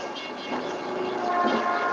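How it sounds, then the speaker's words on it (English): A train rumbles steadily past at close range, a continuous heavy roar with faint metallic squeals on top. "she was able to be heard above the sound of the passing train."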